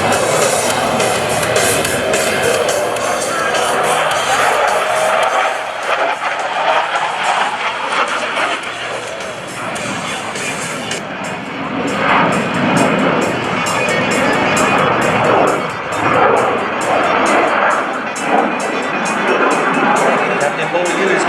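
A CF-18 Hornet jet flies a descending airshow maneuver at an Air National Guard open house, a loud continuous engine roar washing over an outdoor crowd with a commentator talking over it.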